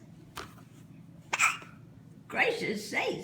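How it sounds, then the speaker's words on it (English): A baby hiccups in a few short, sharp bursts, with adult voices talking softly nearby and a quiet background hum. "The baby has the hiccups."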